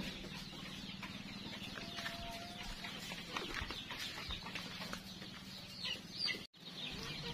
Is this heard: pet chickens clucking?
yes